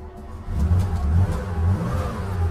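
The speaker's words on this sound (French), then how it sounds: "Quand vous avez démarré votre voiture, que votre moteur commence à tourner, vous le maintenez avec le pied un petit peu accéléré." Classic Porsche 911 carburetted engine held at a raised idle after starting, a steady nearby rumble that swells into a revving surge and holds, with no talk.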